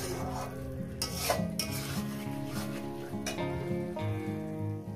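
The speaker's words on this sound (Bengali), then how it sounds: "খাসির চর্বিটা দিয়ে আমি শুধু এখানে কষতেই থাকবো যতক্ষণ না তেলটা আলাদা হয়ে যাবে।" Mutton fat stirred and fried in a pan for a jackfruit curry, with rhythmic spatula scrapes and clinks against the metal over a low sizzle, close and steady, without speech.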